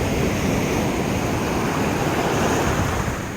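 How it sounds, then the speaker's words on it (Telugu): Sea waves wash steadily onto a beach where crabs are being dug for, giving a continuous, loud hiss of surf with wind noise and no distinct breaks. "బీచ్ సౌండ్ అయితే చూడండి ఎలాగున్నదో."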